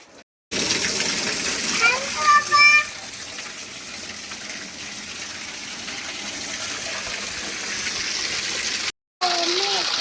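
Water gushes steadily into a small tub being filled at home for a child's bath, a continuous splashing flow with brief tonal clinks early on, under children's and adults' voices talking.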